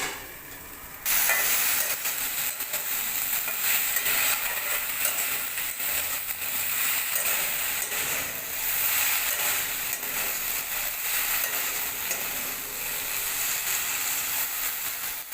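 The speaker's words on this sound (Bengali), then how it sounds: "লো আঁচে রেখে ভালো করে চাপা দিয়ে ভেজে নেব।" Okra and onion fry in a covered pan over low heat. After a brief quiet opening, a steady, close hiss of sizzling and steam fills the rest of the clip, with no voices.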